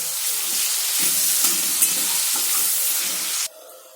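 Spices, cumin and garlic sizzle steadily in hot oil for a chicken curry, a loud close frying crackle with stirring scrapes that stops abruptly near the end, leaving a faint hiss.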